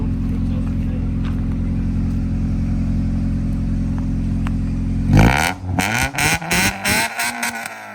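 A car with a modified exhaust idles with a deep, steady burble, then gives a series of sharp, loud revs that rise and fall in quick bursts near the end.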